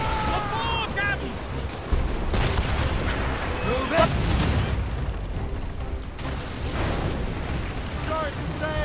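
Ship cannons firing during a naval battle in the game Assassin's Creed Rogue, with a string of heavy booms and rumbling blasts over a constant roar of sea and wind, and shouted voices mixed in.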